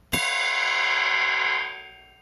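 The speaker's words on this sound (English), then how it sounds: "And another thing you can do on the ride is you can hit the bell" A drumstick strikes the bell of a ride cymbal once, giving a bright, clear ping that rings on evenly for over a second and then fades, alone in a quiet room.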